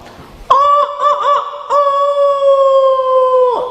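A man imitates a rooster crowing with his voice during a lecture, a loud, close, strongly tonal call that rises sharply and holds a long sustained note before breaking off.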